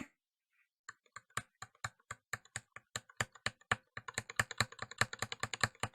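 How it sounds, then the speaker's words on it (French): Keys clack on a Corsair K60 RGB Pro mechanical AZERTY keyboard, slow separate strokes at first, then quickening into rapid steady typing, close and crisp. "écoutons les frappes"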